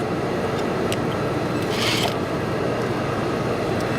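A sewing machine stitches a Hong Kong seam a quarter inch from the edge, giving a continuous close mechanical whir with faint creaks and clicks and no talking.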